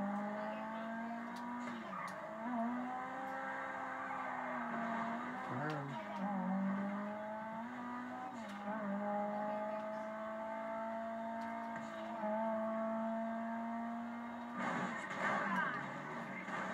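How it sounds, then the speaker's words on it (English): A car engine in GTA 5 online hums steadily at a sustained drone for the whole stretch, with brief pitch wobbles suggesting revving, heard moderately quiet with no speech in the clip. "I love the way this car sounds."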